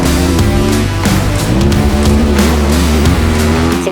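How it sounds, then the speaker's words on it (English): Triumph TF450-E off-road motorcycle, a 450 single, revving and shifting loudly and close in the high desert, the engine note rising and dropping continuously without a break. "We're testing the 25 Triumph TF450-E."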